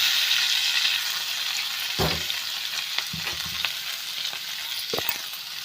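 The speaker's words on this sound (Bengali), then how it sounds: "এরপর আমি দিয়ে দিচ্ছি আলুটা" Potatoes fry in a pan with whole cumin and dried red chillies, giving a bright continuous sizzle with scattered knocks and scrapes of a spatula turning them.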